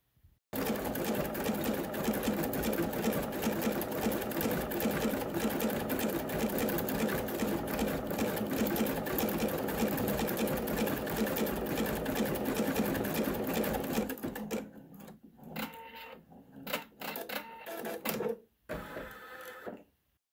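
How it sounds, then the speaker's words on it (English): Embroidery sewing machine stitching a metallic gold thread outline, a fast continuous mechanical chatter at close range that runs steadily for about fourteen seconds, then stops and gives way to a few scattered clicks and handling noises. "We're going to stitch out a metallic gold thread as the outline."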